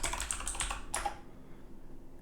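Quick burst of key taps on a computer keyboard while entering a shell command, several close clicks in the first second then quiet room tone.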